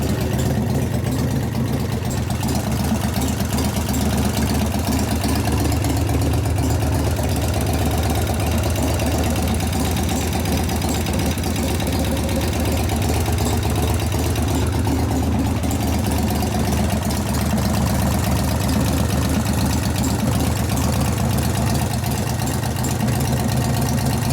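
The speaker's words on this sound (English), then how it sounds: "It's starting to clatter louder because the hydraulic is not moving." A 1988 Harley-Davidson FXR engine idles steadily, heard close up, with a fast, continuous mechanical clatter from a faulty hydraulic lifter riding over the low, rumbling engine throb.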